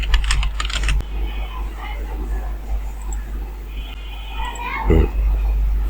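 Quick bursts of typing on a computer keyboard while lettering is entered in Adobe Illustrator CC, with close, soft key clicks over a low steady hum and a brief thump near the end.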